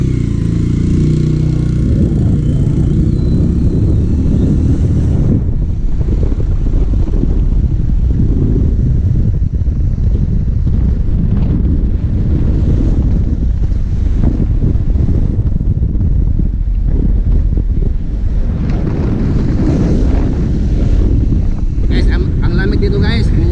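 Steady wind rushing and buffeting the microphone while riding an ATV at Green Lava in Albay, Bicol, with a low engine rumble and voices talking over it throughout.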